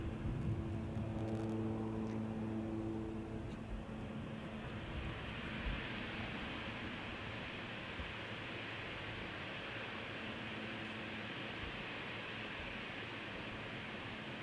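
A Boeing 747 takes off from Schiphol's Polderbaan runway, heard as a steady, broad roar of jet engines with a whining tone that fades early on, sustained and fairly distant for the whole stretch.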